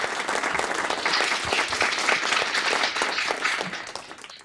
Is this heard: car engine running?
no